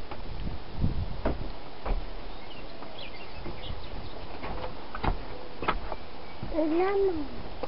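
A cat gives a short meow near the end, fairly faint against a noisy background with scattered knocks and brief clicks.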